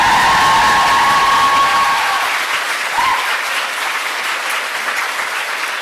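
A film screening crowd claps loudly and cheers, with a few whoops and a brief tone early on; the applause thins slightly but keeps going throughout.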